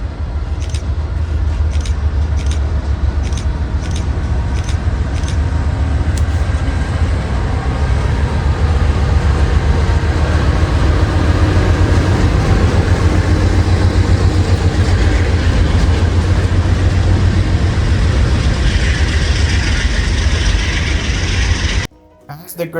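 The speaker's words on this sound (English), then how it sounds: "a grain train with back-to-back engines departs Roseville" A Union Pacific grain train with back-to-back locomotives departs Roseville, rumbling past with heavy engine drone and rhythmic wheel clatter, loud and continuous, ending abruptly.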